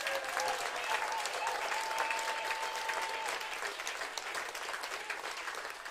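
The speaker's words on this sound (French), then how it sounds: "Donnons une acclamation au Seigneur." Church congregation applauding and cheering during a sermon, sustained dense clapping with scattered shouts of acclamation and a voice or two rising above it, slowly tapering off.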